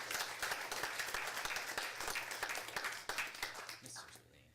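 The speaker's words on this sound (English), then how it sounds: "Give them a round of applause." Audience at a city council meeting claps for a Rotary club receiving certificates, a moderate, fairly quiet patter of applause with distinct individual claps, fading near the end as talking begins.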